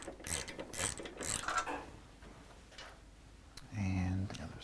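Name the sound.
ratchet removing motorcycle tank bolts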